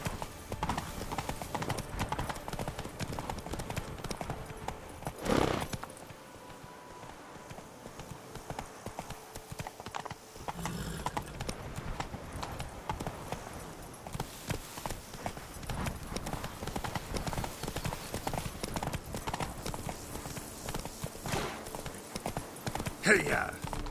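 Roach, the horse in The Witcher 3, clip-clops along in a steady, continuous rhythm of hoofbeats that runs through the whole stretch, with brief louder bursts of game sound.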